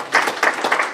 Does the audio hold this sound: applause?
yes